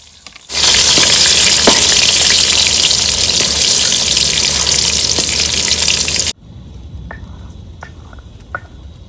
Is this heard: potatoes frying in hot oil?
yes